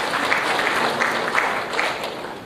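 Applause from an audience welcoming a guest at an award introduction during the Air Cargo India 2016 event, a steady wash of clapping at moderate level that holds for the whole stretch with no voices over it.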